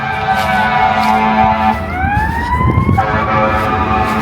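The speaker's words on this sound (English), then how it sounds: "Sorry about the sirens." A loud siren wails continuously with rising and falling tones over steady traffic rumble, an emergency vehicle close by.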